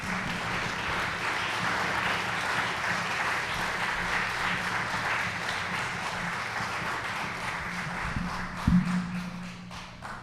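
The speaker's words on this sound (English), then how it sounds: "So please put your hands together for Heather Andreessen." An audience at a story slam applauds a storyteller, a sustained wash of clapping that stays steady for ten seconds, with a few thumps near the end as it fades.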